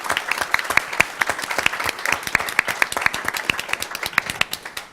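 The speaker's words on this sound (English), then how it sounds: "please join me in a round of applause for this outstanding contribution" Applause from a seated audience at an economics program, many hands clapping in a brisk, fairly close patter that holds steady for several seconds.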